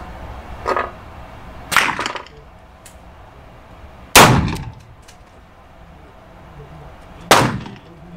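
A Colt Python .357 revolver fires four separate sharp reports at uneven intervals, each with a short ringing decay, with quiet gaps between and faint movement noise in the background.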